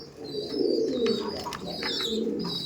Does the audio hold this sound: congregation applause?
no